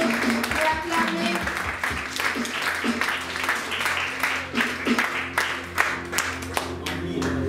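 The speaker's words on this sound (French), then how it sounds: "Je vais rappeler l'officiant sous vos acclamations" A church congregation applauds and acclaims the officiant, Brother Roger, with lively crowd clapping in uneven bursts, joined by a few cheers and voices, close and fairly loud.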